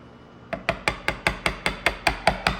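A blue spruce mallet taps a chisel finely along a dovetail, about eleven crisp, evenly spaced strikes in quick succession, close and clear with no talk.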